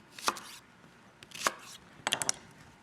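Coarsely chopped shallots are cut with a knife on a board for a chimichurri: a few sharp, close taps spaced apart, then a quick cluster of chops, with no talking.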